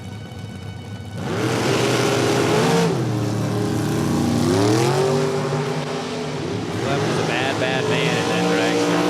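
The Orange Crate Racing Super Comp dragster engine roars loud and near at the drag strip, revving and accelerating in rising surges. An announcer talks over it throughout.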